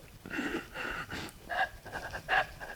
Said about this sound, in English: the breath is up in the chest, it's shallow